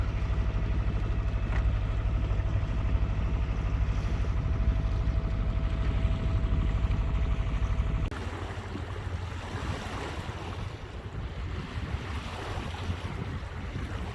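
A sailboat motoring under engine power at sea, heard as a steady low drone under wind and water wash; partway through the engine tone drops away, leaving breezier surf and hiss.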